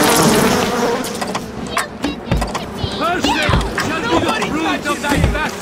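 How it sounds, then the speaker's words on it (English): A swarm of bees buzzes in BioShock, a dense drone with warbling tones under a talking voice, loud and close, with irregular bursts across the clip. "Oh, that sounds like a lot of bees."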